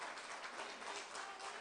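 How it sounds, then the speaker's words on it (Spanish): Church congregation applauding during a sermon, a steady wash of many hands clapping heard faintly at a distance, even in loudness throughout. "Dele un aplauso al Señor"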